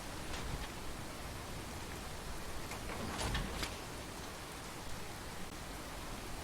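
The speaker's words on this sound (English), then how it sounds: "Well, it's still raining." Steady rain hiss fills the scene, even and continuous, with a few faint drip-like ticks scattered through it.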